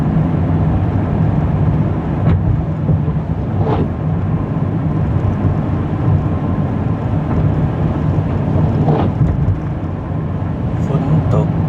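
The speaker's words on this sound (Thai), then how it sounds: "ฝนตกลิน" Heavy rain pours on a street in Vientiane, Laos, a dense continuous roar with occasional thunder crackles, loud and close, and traffic noise beneath it.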